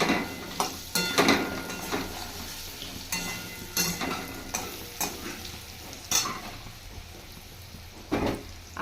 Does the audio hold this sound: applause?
no